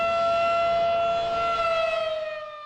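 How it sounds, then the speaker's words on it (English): A loud, steady civil defense tornado siren wails with a sustained tone, slowly falling slightly in pitch and fading near the end, no voices present. "When you hear a tornado siren,"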